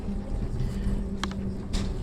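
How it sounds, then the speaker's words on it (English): Field recording of an Amsterdam tram: a steady low rumble and hum with faint tonal whine, broken by two short, sharp bright bursts like metallic squeals or clacks. "So it's a recording of a tram in Amsterdam called Tramsterdam."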